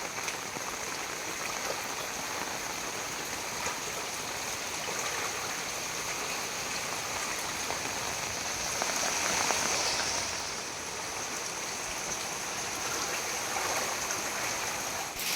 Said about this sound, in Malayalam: മഴക്ക് ഇപ്പോഴും ഒരു കുറവുമില്ല കേട്ടോ. നേരത്തെ പെയ്ത അതേപോലെ തന്നെ ഇപ്പോഴും പെയ്തുകൊണ്ടേ ഇരിക്കുകയാണ്